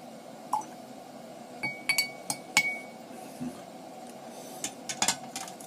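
Glass clinks several times, bright short taps scattered unevenly, as Rowan's Creek bourbon, bottled at 100 proof, is cut with water, over a faint low background hum.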